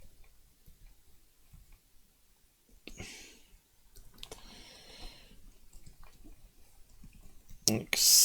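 Someone types on a computer keyboard with soft, irregular key clicks. A few sharper bursts stand out against a quiet background.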